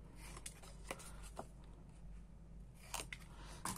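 Scrapbook paper handled and folded for a Snow White album page, with soft close creasing and rustling and a few sharper crackles and taps, and no voice.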